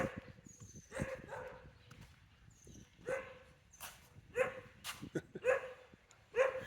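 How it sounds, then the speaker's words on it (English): An old dog barks repeatedly outdoors on a Sunday morning at Fort Clark Springs, irregular mid-distance woofs spaced across the stretch with small yips between, fairly loud against a quiet background. "he spots me and he'll bark for a while and then he stops"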